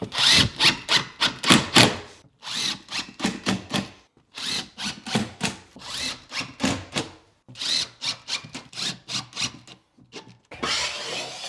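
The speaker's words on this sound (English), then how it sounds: "we just take our screws and just go about every 8 to 12 inches on the board" A power drill drives screws into shower board, with bursts of loud whirring in quick clusters separated by short pauses, close up and without talk.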